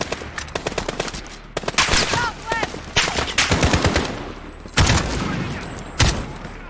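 Heavy gunfire in Call of Duty Modern Warfare, loud automatic bursts and single sharp shots in rapid, uneven volleys, with game voices briefly heard between the shots.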